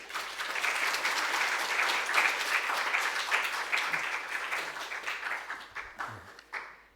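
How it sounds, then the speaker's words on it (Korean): A church congregation applauds as a visiting theology professor comes forward, a steady wash of clapping hands in a hall that holds for several seconds, then thins and fades out near the end. "우리 교수님 나오실 때 우리 박수로 안녕하겠습니다."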